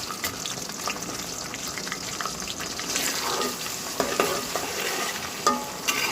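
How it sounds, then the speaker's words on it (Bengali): Garlic and dried chilies frying in oil, a constant hissing sizzle that grows louder midway, with occasional stirring scrapes and clicks; no speech. "রসুনগুলো ব্রাউন কালার করব সেই সাথে শুকনো মরিচও ভাজা ভাজা হয়ে যাবে"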